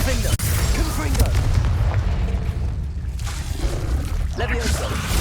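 Confringo blasting spell explosions in the Hogwarts Legacy game, loud booming impacts with dense rumbling and crackling debris, a couple of distinct bursts amid continuous battle noise.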